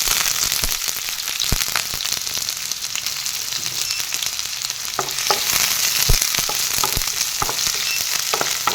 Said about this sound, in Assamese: ইয়াতে এতিয়া প্ৰথমতে মই কাটি থোৱা পিয়াজ আৰু জলকীয়া সৈতে দিম